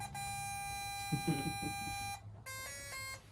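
A steady electronic tone beeps, pauses, then returns in a rapid series of short beeps, with a brief voice in between.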